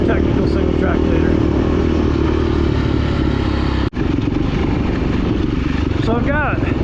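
A Beta 390 motorcycle set up for light adventure riding works along a trail, its engine a steady, loud drone that cuts out for a split second near the end before picking up again.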